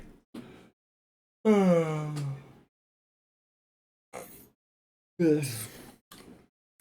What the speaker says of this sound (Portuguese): Deixa eu bocejar primeiro.